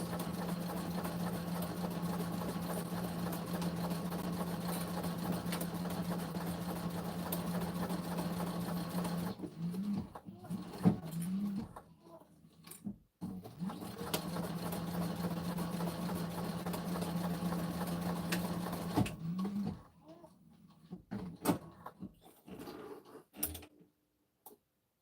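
Sewing machine binding and top-stitching a quilt runs in a steady close hum with rapid ticking, stopping and restarting a few times with short quiet gaps between runs.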